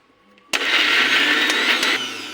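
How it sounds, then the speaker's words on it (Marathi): After a quiet moment, a blender roars to life and grinds ginger, garlic and coriander loudly and steadily, its pitch shifting slightly as the contents break down. "आता हे आलं, लसूण, कोथिंबीर वाटून घ्यायचं बारीक."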